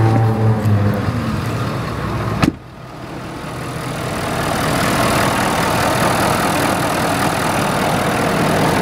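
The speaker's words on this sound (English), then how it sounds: "I mean, you hear the turbo whine a little bit, but it's a quiet diesel." A Ford F-350 diesel engine idles with a faint turbo whine: a steady, fairly loud rumble heard from close by, following a brief thump and a short pause.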